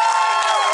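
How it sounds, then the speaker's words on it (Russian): Brief burst of cheering and clapping from an opera concert audience, loud and dense, with raised voices mixed into the crowd noise. "Ваши бурные аплодисменты."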